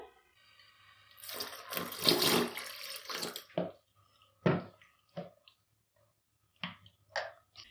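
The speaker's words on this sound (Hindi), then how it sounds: "अब हम इसमें हस्बे ज़रूरत पानी ऐड करेंगे।" Water pours into a thick homemade mango drink concentrate in one sustained splashing burst, then a few short sloshes and drips follow. No one speaks.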